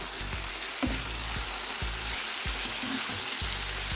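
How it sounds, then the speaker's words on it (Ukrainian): Steady sizzling and crackling of chicken liver frying in a pan with soy sauce over medium heat, with occasional soft clinks, continuous throughout. "Смажимо на середньому вогні."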